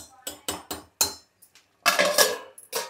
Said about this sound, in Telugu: అదే మూత పెట్టేస్తున్నాను